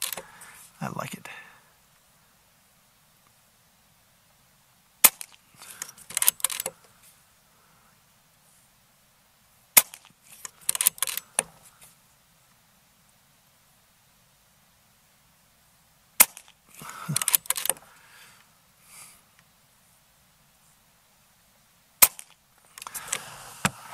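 Air Arms S510XS air rifle fired at a target 27 yards away: five sharp, isolated shots spaced several seconds apart, each followed by a brief burst of noise, with near silence between.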